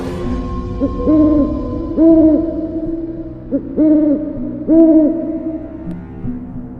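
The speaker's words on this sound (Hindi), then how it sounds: "तभी उसे अजीब अजीब जानवरों की आवाज़ें सुनाई देती हैं" Owl hoots in a forest at night, repeated in spaced pairs of low, hollow calls that sound fairly close and stand alone with no talking.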